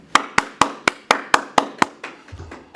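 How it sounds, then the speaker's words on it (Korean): At a Korean business event, sharp hand claps ring out close by in a steady, even beat, about nine strong strikes in a row before the clapping softens and trails away. "다시 한번 뜨거운 박수 부탁드립니다"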